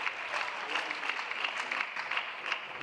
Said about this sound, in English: And the applause from the crowd, they are very present for Mattias KARLSSON.